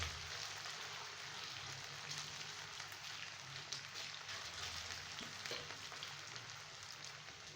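Grated potato crust for a pan pizza frying in a pan over low heat, giving a steady, soft hiss and sizzle that holds evenly throughout with no talking.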